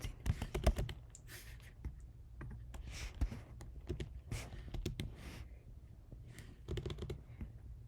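Keys clack in quick irregular bursts on a computer keyboard while a DS-160 visa form is filled in, close and fairly soft, with brief pauses between runs.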